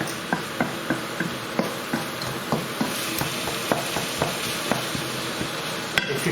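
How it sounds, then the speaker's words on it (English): Lamb and potatoes frying in oil in a balti pan, a steady sizzle close by with regular scraping and tapping from a stirring utensil, about two strokes a second and no talk. "And keep stirring it, get them all mixed together."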